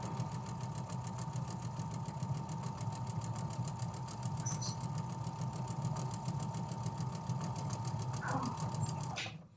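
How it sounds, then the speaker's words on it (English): A sewing machine stitching fabric pieces together, a fast steady mechanical whir and needle chatter running nonstop at a moderate distance, with a brief faint clink near the end. "I'm gonna go ahead and sew these up."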